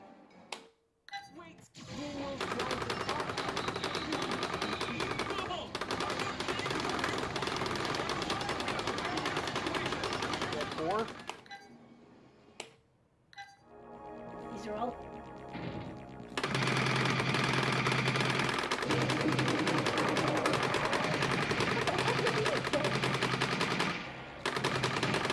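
Rapid automatic gunfire pours from the Transformers Human Alliance arcade shooter, in long dense bursts that drop out briefly midway before resuming loud and unbroken, with faint game tones and effects in the gap.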